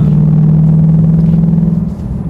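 Deep, steady exhaust rumble from a 2019 Ford Mustang, loud and close, holding a constant low drone for a couple of seconds with a slight wavering toward the end, no voices.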